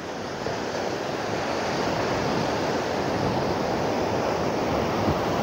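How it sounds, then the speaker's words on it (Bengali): Sea waves roll onto Visakhapatnam beach in a loud, steady roar of surf, a continuous wash of breaking water with some wind noise across the microphone. "শোনো সমুদ্রের আওয়াজটা শোনো, আর কিছু শুনতে হবে না, সমুদ্রের আওয়াজটা শোনো।"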